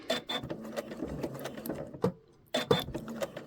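A sewing machine stitches through thick denim jeans in quick rattling bursts, with a short pause before the motor starts up again close by.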